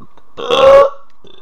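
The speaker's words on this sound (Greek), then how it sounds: "Θα ακούτε ότι ρεύομαι. Είναι επειδή έφαγα πριν λίγο." A single loud, drawn-out burp right after eating cheese pie and sausage roll, close to the mic and heard alone.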